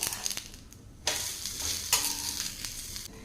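Coconut roti with onions frying in oil on a pan as it is flipped, a soft constant sizzle that jumps to louder crackling bursts when the roti turns over, close and without voices.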